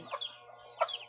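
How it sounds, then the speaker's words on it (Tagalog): Chickens kept under a bamboo-strip floor cluck in two short, soft bursts with a quiet gap between them, heard close and alone. "May manok sa ilalim ng sahig."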